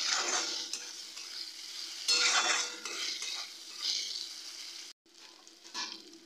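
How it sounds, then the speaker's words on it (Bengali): Ground spices and garlic sauté in a pan for a Bihari-style egg curry, with repeated scraping stirs of a utensil over a soft sizzle, close by, pausing briefly near the end before resuming. "গুঁড়ো মশলা আর রসুনটাকে দিয়ে খুব ভালো মতো কষিয়ে নেব।"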